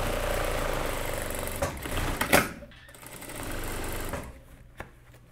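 A sewing machine runs in close, steady bursts while topstitching the armhole of a jumpsuit, its motor whirring loudly, pausing briefly, then resuming before stopping near the end.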